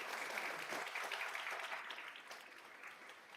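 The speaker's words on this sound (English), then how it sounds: "Give them a big round of applause." An audience at a school board meeting gives a round of applause, a steady, fairly soft patter of many hands that tapers slightly toward the end, with no talking.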